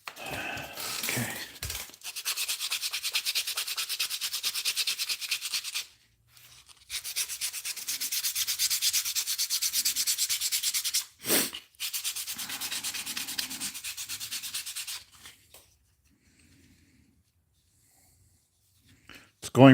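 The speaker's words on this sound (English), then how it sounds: "let's do some more sanding" Sanding of a handmade musky crankbait fishing lure, heard as close, steady rhythmic rasping strokes in long bursts separated by brief pauses, fading to near silence at the end.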